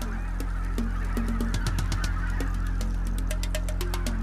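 Wild geese honk in a dense, overlapping flock at a lake during a morning flight, with loud repeated calls over a steady background of many more distant birds.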